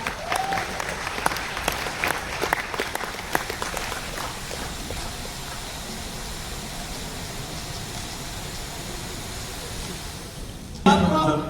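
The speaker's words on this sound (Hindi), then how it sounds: "आप लोग थोड़ा ताली बजा दे भाई" A live audience applauds during a crypto trading competition event, with a dense, steady wash of clapping lasting several seconds before thinning into a noisy background.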